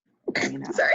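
A single sharp sneeze bursts out close by after a brief silence, quickly followed by a person speaking.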